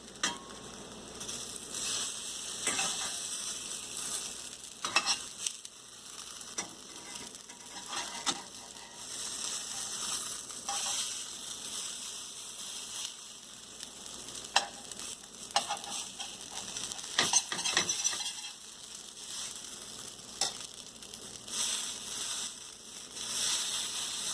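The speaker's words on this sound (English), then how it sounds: "now we'll flip the patty." A vegetable patty fries in a pan with a continuous crackling sizzle, steady and close, with occasional stirring or scraping clicks over the full length and no talking.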